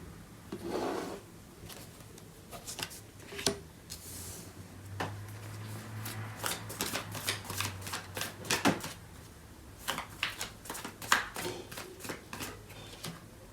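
Tarot cards being shuffled and drawn up close: soft rubbing slides, then a run of quick riffling flutters and light card snaps, quiet and with no talking.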